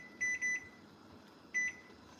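A kitchen timer beeps in a quiet kitchen during jam making: a quick double burst of short high beeps, a pause, then one more beep, fairly faint with no talk over it.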